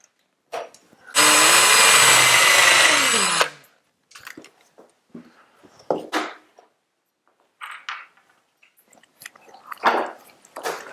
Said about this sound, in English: and we can then drill that and put that in.